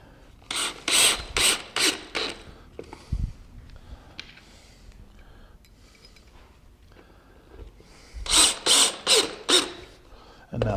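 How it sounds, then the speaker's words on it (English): A screw is driven into a wooden block jig for wood bending, as two loud bursts of rapid rhythmic grinding pulses with a quieter stretch of faint handling noise between them. "Put our other screw from the other side."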